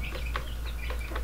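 Several small birds cheep in quick, high, overlapping peeps over a low steady hum, close by and fairly soft.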